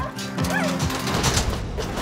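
A dog barks and yips in a movie trailer, a couple of short close barks mixed with whimpering amid busy music and crashing sounds.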